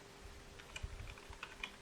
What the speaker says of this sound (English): I'm typing these names for convenience.